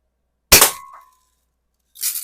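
A 1930s Daisy King BB gun fires once with a sharp, loud snap and a brief ringing ping that fades quickly, followed shortly by a second burst of noise.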